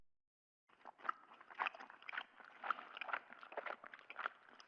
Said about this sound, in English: Like someone stuffing their cheeks with gum.